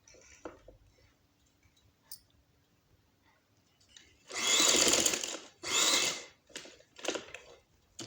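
Electric sewing machine stitching trouser fabric with short stitches at slow speed: two loud, close bursts of whirring motor and needle clatter, followed by a few shorter runs and light clicks.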